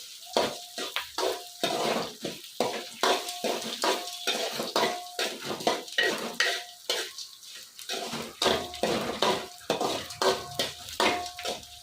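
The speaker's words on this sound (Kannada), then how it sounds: "ಸಣ್ಣ ಉರಿಯಲ್ಲೇ ಮಾಡೋಣ ಹುರ್ಕೊಳ್ಳೋಣ ಎಲ್ಲ ಒಟ್ಟಿಗೆ ಹಾಕಿ ಹುರ್ಕೊಳ್ಳೋದು" Curry leaves and spices roasting in a pan over a low flame, with a steady stream of scraping and clinking stir strokes from a utensil against the pan and a soft sizzle underneath, close and fairly busy throughout.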